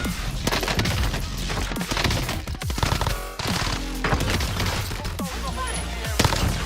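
MP40 submachine gun fire in the video game Warzone during a building fight, dense rapid bursts of shots that go almost nonstop over heavy game noise, loud and close, with someone talking over it.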